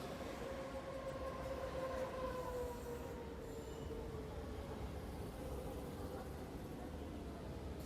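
A Brussels metro train runs through a tunnel, with a steady rumble of wheels on rails and a drawn-out metallic squeal that slides downward, all at a moderate, constant level.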